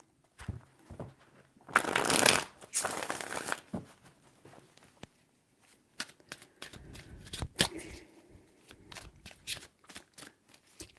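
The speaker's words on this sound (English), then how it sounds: "Three shuffles." Tarot cards being shuffled by hand in bursts of riffling and sliding, a long dense flurry early on followed by sharper, scattered card flicks and taps, close and fairly loud, with no talking.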